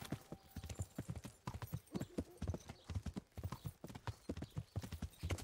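Horse hooves clip-clop steadily at a walking rhythm in the Kingdom Come video game, a series of regular, fairly close hoofbeats heard for about five seconds with no talk over them.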